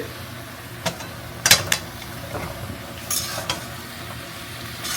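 Water spinach is stirred in a pan with a pinch of sugar, giving a few scraping, clattering strokes over a soft steady sizzle, close by with no talking.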